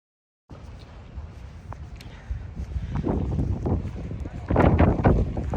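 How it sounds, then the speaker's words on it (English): Wind buffets an outdoor microphone with a steady low rumble that builds and gusts louder toward the end, with faint rustling mixed in. "Man, the wind."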